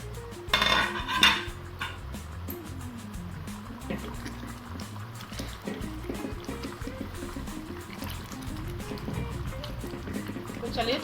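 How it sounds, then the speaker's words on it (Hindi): Rajma being stirred in a cooking pot with the lid off, giving scattered metallic scraping and clinks of a spoon against the pot over a steady kitchen background, with someone talking throughout. "तो चलिए एक बार ढक्कन हटाकर चला लेते हैं।"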